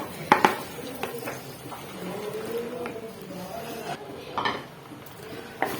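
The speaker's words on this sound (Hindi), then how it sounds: "अब हम इसको अच्छे से मिक्स कर लेंगे।" A spoon stirs mixed vegetables with potatoes and carrots in a metal pot, with irregular clinks and scraping knocks against the pan and softer shuffling between them.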